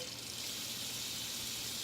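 Water from a kitchen tap runs steadily into a sink, a continuous close hiss and splash that stays even throughout the short moment, with no speech over it.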